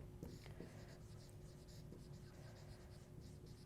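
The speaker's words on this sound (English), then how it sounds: "let me just write the formula down for the relative frequency" Pen writing a math formula on paper, faint scratchy strokes and small taps in short runs over a steady quiet background hum, no talking.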